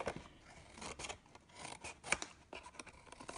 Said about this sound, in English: Snip, snip, snip.